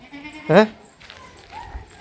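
A single short goat bleat rises clearly over quiet outdoor background, with faint murmuring voices around it.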